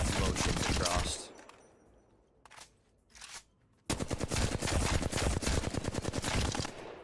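Video game gunfire in rapid automatic bursts, loud and close, with a long stream of shots, a quieter gap holding a few scattered shots, then another sustained burst.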